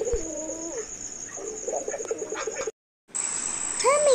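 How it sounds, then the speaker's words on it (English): A pigeon coos in a soft, rolling series of low calls, pausing briefly before coming back, with faint chirps and an outdoor hiss behind it. "Pigeon."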